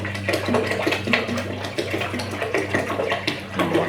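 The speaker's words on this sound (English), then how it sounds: "I'm going to pour about another half gallon in." Water is poured from a container into a brewing pot on a burner while making a one-gallon beer recipe, a continuous close splashing gush with no voices.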